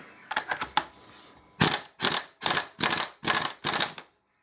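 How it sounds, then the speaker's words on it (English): A pneumatic impact wrench undoes the middle nut on a Harley-Davidson Deuce trike conversion: a few light clicks, then six loud, evenly spaced rattling bursts close by, with no voices. "I'm just going to use rattle gun"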